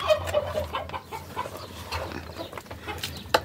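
Backyard chickens cluck softly and intermittently while being fed watermelon rinds and sweet potato, a busy low flock murmur with one brief sharper squawk near the end, no talking.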